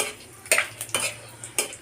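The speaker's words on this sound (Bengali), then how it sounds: "1 চামচ 5 ফোড়ন দিয়ে ফোড়নটাকে একটু নাড়াচাড়া করব।" Panch phoron, a Bengali five-spice mix, stirred in a pan for a vegetable curry, with several sharp spoon-on-metal scrapes and clinks over a faint sizzle, close and fairly loud, no talking.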